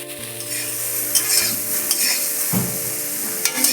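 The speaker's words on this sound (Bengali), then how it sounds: "পনিরগুলো আমার ভাজা হয়ে গেছে, ফুলকপিগুলো আমি ভেজে নিচ্ছি" Cauliflower florets fry in hot oil in a kadai, a steady sizzle broken by the scrape and clink of stirring. A spatula knocks against the pan at intervals, heard close and alone with no voices.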